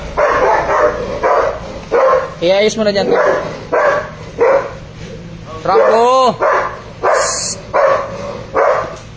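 A dog gives two short, whining barks a few seconds apart, close by, amid ongoing conversation and movement.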